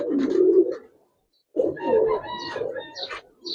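Pigeons at a pigeon farm selling Giribaz and coloured breeds make nearby cooing and bird calls in two bursts, separated by a short gap of quiet.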